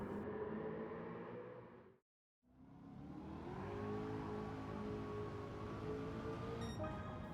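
Engine of the Eckert's Rod & Custom Mach Forty, a mid-mounted rear-wheel-drive Mustang in Gran Turismo 7, droning and revving, cutting out briefly to silence, then rising again in pitch and holding a steady whine.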